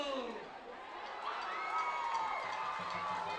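A homecoming high school football crowd cheers and shouts in a stadium at night, a broad continuous roar with rising whoops and whistles, steady and moderately distant throughout.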